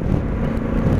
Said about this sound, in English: I hear the thump in this 1100. 270 degree crank.